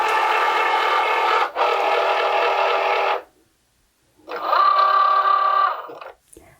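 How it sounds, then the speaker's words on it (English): A Cricut Joy machine automatically feeding cardstock with foil on top for a foil transfer, giving two bursts of close, steady motorized whirring separated by a short silence. "put my cardstock with the foil on top into the machine, and it'll just automatically feed in"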